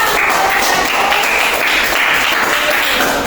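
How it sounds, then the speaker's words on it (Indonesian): Classroom of students clapping for a group that just finished presenting, a dense, steady wash of applause filling the whole stretch at close range with no voices standing out. "Kita kasih tepuk tangan dulu ya."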